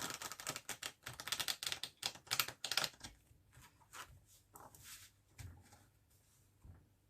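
A deck of tarot cards is cut and shuffled in quick papery riffles and taps, close and fairly soft, then slows into scattered light handling sounds.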